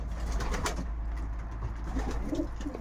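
Racing pigeons in a loft give soft, low cooing calls at close range, repeating in short throaty phrases over a steady background hum.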